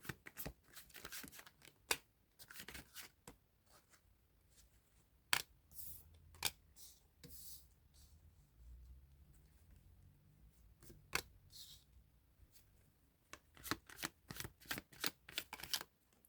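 Tarot cards being shuffled by hand, heard as bursts of riffling and snapping card flicks in irregular clusters, close up and crisp with quiet gaps between, no talking.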